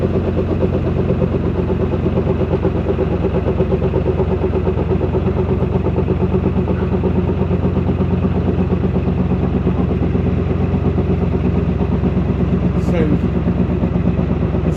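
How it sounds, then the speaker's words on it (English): A narrowboat engine runs steadily throughout at a busy canal mooring, a continuous low, even throb with no breaks, heard close and fairly loud. "Sounds like a narrowboat running, doesn't it?"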